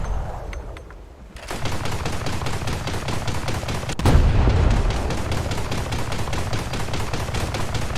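Rapid gunfire in a Team Fortress 2 style game rattles in a dense, steady automatic stream after a quiet start, with a heavier burst in the middle.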